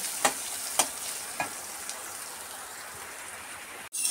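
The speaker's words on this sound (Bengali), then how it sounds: "একটু রসুন থেতো দিয়ে এটা খিচুড়ির সম্বার হবে।" Crushed garlic sizzling in hot oil as a tempering for khichuri, a close, steady fizzing crackle with a few sharp pops near the start.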